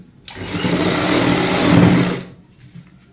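A sewing machine stitches a cushion cover in one steady run of about two seconds, loud and close, its motor whirring evenly before stopping.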